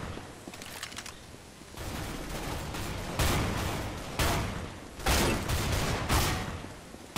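Gunfire in the video game Counter-Strike: GO during a gun game match: loud, sustained bursts of rapid automatic fire come in several heavy volleys with brief lulls between them.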